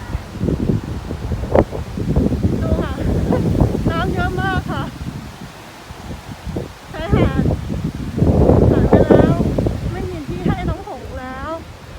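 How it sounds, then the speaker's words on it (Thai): Strong wind gusting hard during a walk in England just before a hailstorm, a constant roaring rush with mic buffeting, beneath people talking close by. "ลมแรงมากอะทำไมลมแรงจัง"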